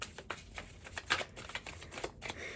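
Tarot cards being shuffled and pulled from a deck, a run of quick soft riffling and flicking bursts close by with no talking.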